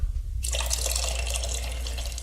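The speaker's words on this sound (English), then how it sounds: "So then I'm gonna come over here and put some hot water" Hot water pours steadily from a kettle into a cup for tea, a continuous bright splashing stream that starts abruptly and carries on evenly, close by with no voices.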